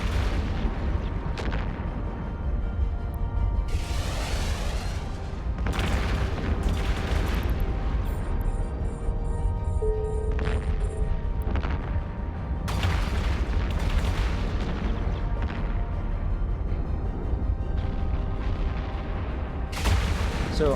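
Battleships and battlecruisers fire their weapons in an Eve Online space battle. Loud, repeated heavy booms and blasts follow one another in a continuous barrage for about twenty seconds, with no talk.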